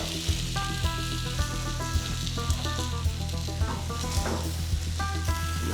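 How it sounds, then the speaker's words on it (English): Burgers sizzling on an Electactic G41 gas grill turned up to full heat, a steady dense crackle and hiss close up, with music playing over it and no talk. "I'm gonna crank the burger side up to full, get a little char going on them."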